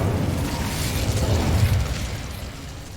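A fire spell cast in the video game Hogwarts Legacy bursts out as a dense, roaring whoosh with a low rumble, loud and close, swelling then fading over a few seconds without speech.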